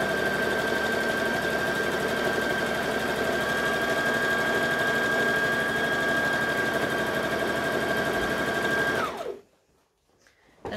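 A sewing machine stitching a hem for a Simplicity 1801 garment runs in one loud, steady, fast-rhythm burst for about nine seconds, then stops abruptly, leaving near silence.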